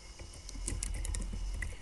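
Rapid, light keystrokes on a computer keyboard while writing C# graphics code, a quick irregular patter of clicks over a low background hum, close to the microphone, with no voices.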